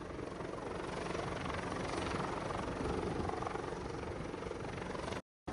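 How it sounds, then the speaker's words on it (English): A rescue helicopter hovers over a cruise ship's top deck, its rotor roar a steady, loud wash that fills the clip before a brief cut near the end. "They hovered for quite some time before they dropped a line down."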